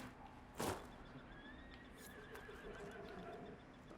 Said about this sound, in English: And now we have a horse.